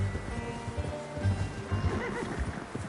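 A horse in the video game Red Dead Redemption 2 neighs and snorts up close, with hooves clip-clopping in a loose rhythm underneath.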